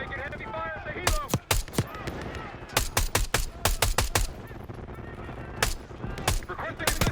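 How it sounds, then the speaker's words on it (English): Heavy gunfire in the Call of Duty Black Ops 6 campaign: rapid bursts of automatic and single shots crack in clusters, loud and close, mixed with faint game voices and background battle noise. "We're taking heavy fire at the helo."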